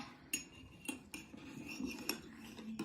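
Slime mixture stirred with a utensil in a bowl, giving repeated scraping and clinking knocks at an irregular pace, fairly close and moderately quiet, with no talk.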